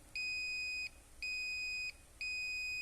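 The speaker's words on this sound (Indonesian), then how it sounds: "Sudah kita lengkapi dengan LED dan suara buzzer." The continuity buzzer on a Rasiba Multigun4 multitester gives three steady electronic beeps, each lasting under a second, with short regular pauses between them, clear and alone.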